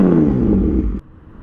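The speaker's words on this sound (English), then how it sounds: "it is a full exhaust, so you get to hear it. It's really throaty." A BMW S1000RR sport motorcycle fitted with a full aftermarket exhaust rumbles loudly and throatily for about a second, then cuts off abruptly, leaving a quieter low idle-like hum.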